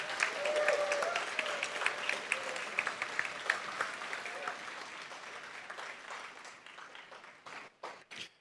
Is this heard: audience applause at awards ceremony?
yes